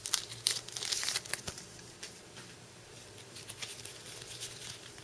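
Scissors cut open a crinkly foil wrapper of a Yugioh Order of Chaos OCG booster pack, giving close, dry crackling and rustling with a few sharp snips, busier at first then settling into lighter crinkles.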